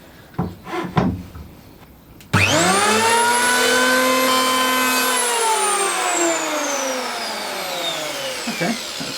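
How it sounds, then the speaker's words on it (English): A MacAllister electric planer spins up with a rising whine, then cuts a chamfer along a softwood edge in one long steady loud pass before spinning down, after a few short knocks of handling. "we'll just do a quick chamfer on the edge of this, see how that works"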